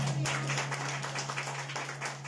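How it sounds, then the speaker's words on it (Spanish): A church congregation claps together in a dense, sustained burst of applause over a low steady hum. "Otro fuerte aplauso a Dios en esta mañana"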